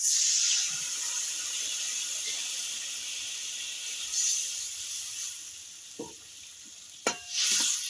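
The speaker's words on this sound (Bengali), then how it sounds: "সর্ষে বাটা আলুর সঙ্গে 1 মিনিট নেড়ে চেড়ে আমি জল দিয়ে দেবো।" Potatoes stirred with mustard paste hiss steadily in a frying pan for a bitter gourd and small fish curry, a close sizzle with a few spoon scrapes and knocks near the end.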